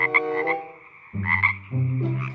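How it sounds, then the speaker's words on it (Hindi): A toy frog's recorded croak plays in a few loud, buzzy, tonal calls with short pauses between them, close and clear with no other sounds. "तो ये है मेंढक फ्रॉग"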